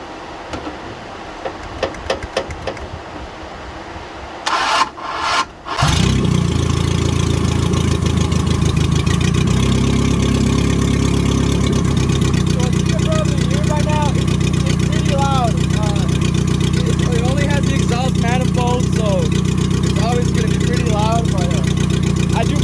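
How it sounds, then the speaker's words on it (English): A Datsun 521 with a newly fitted Weber carburetor cranks a few times and catches, then settles into a loud, steady, slightly lumpy idle while someone talks over it and birds chirp faintly. "So I'm gonna give it a quick little startup."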